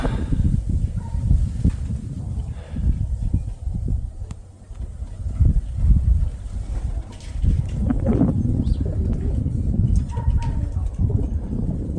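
Flying pigeons heard outdoors in wind, with faint flutters and occasional coos over a steady breezy rumble, plus brief bird chirps scattered through the scene.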